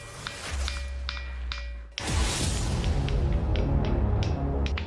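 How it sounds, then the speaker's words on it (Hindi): Thinthini stone, a rock that rings with a metallic tone, struck several times outdoors; bright clinking hits with short ringing tails, close and clear, with a louder burst of noise midway. "और ये है ठिनठिनी पत्थर की आवाज।"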